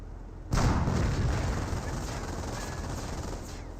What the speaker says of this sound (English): The MG-42's trying to fire away as well